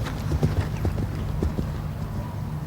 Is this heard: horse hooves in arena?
yes